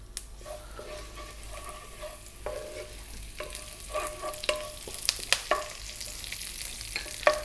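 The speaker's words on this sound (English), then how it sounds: "to that I'm going to add the curry leaves" Cumin seeds and curry leaves fry in hot coconut oil over above-medium heat, a close steady sizzle broken by crackling pops and utensil scrapes that grow sharper toward the end, with no one talking.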